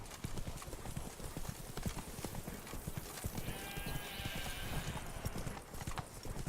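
Roach, a horse in The Witcher 3 video game, gallops steadily with a rapid, continuous clip-clop of hooves up close, and a faint whinny breaks out partway through.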